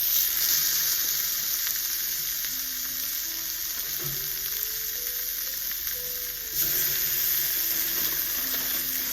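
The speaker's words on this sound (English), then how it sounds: "about ready to put this steak in this hot sizzling pan" Steak seasoned with salt, pepper, garlic powder and Worcestershire sauce sizzles and fries steadily in a hot pan, a loud continuous crackle close by with no talking.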